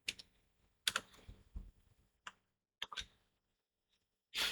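A few computer keyboard keys pressed during Photoshop work sound as sparse, close clicks and short taps with quiet gaps between them, no talking.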